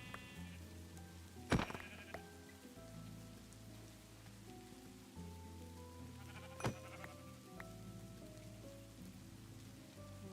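In the Minecraft video game, a sheep gives two short, clear bleats several seconds apart over a steady patter of rain and soft sustained background tones.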